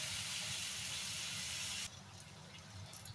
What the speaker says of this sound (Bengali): আর ওল, বা এটাকে অনেকে ম্যাড্রাসি কচু বলে, ভালো করে ভেজে নিতে হবে।